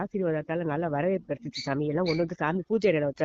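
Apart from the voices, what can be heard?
No everyday noise stands out behind the speech.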